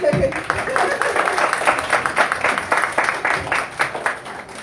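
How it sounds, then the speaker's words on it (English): An audience at a happy hour gathering claps steadily for several seconds in a moderately loud, even patter, with a voice audible at the start. "Clap, clap, clap."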